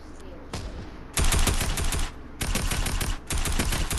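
Rapid bursts of automatic gunfire from a Fortnite match, loud dense volleys separated by brief lulls, repeating in several clusters with faint game ambience between them.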